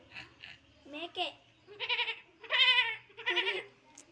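A child at a government primary school mimics a goat, giving several shaky, bleating cries in quick succession, close and clear against a quiet background. The voice imitates the animal.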